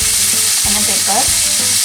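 Prawns fry in a hot pan, giving a loud, continuous close sizzle with a few stirring scrapes and clatters and no talking.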